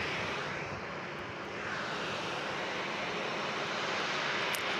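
Embraer E-175 jet airliner bound for Paine Field, Everett, Washington, passing as a broad, steady engine roar at moderate distance, continuous with no talk.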